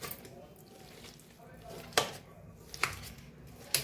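Knife cutting roasted eggplant: three sharp chopping taps against a board, close and distinct, with soft handling sounds between them and a voice speaking.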